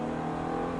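A Ferrari F430 on a track accelerates, its engine holding a loud, steady, close-up drone for a brief moment.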